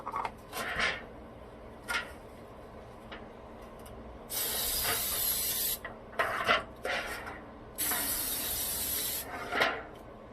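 Several bursts of hissing aerosol cooking spray into a cake pan, a few seconds each, separated by quieter handling and rubbing noises close by.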